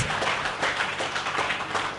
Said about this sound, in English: A big round of applause for the parents and grandparents.